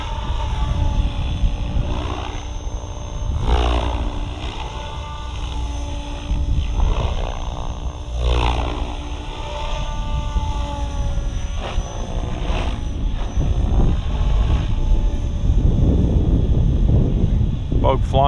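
An SAB Goblin RAW 580 RC helicopter flies at medium head speed, its rotor giving a steady whooshing drone that rises and falls as it passes, mixed with wind buffeting the microphone, while someone talks over it.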